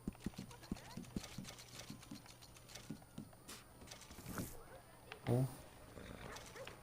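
Horse hooves clip-clop in a steady rhythm in the video game Red Dead Redemption 2, moderately close, with a brief snort or whinny partway through and voices speaking over the hoofbeats.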